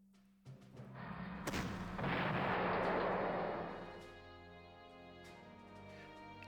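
Artillery fire in a WWII strategy video game, a single heavy booming blast that swells into a loud rumbling roar for a couple of seconds, then fades into a lingering low hum.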